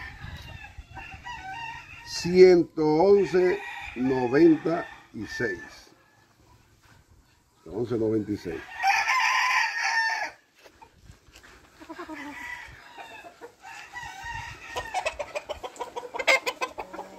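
A rooster crows in short bursts among other fowl clucking, interleaved with someone speaking Spanish nearby; crows and clucks come in separate spurts across the clip.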